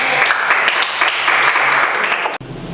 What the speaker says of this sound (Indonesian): Dengan demikian berikan aplaus